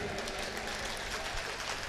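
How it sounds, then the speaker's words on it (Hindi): Dense, continuous audience applause at a Hindi hasya kavi sammelan, a steady wash of many hands clapping with no breaks. "एक बार जोरदार तालियां बजाइए,"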